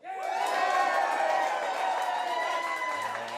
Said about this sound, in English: Some huge screams behind me